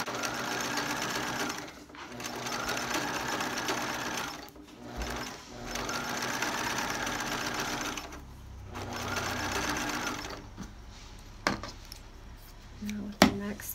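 Sewing machine stitches rope rug rows together in several steady whirring runs with brief pauses between, followed by a few clicks and clunks of handling near the end.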